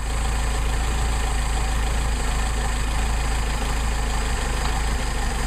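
Mercedes 190SL engine idling steadily while its Solex carburetor is adjusted, a loud, close, even rumble with a constant hum and no talk over it.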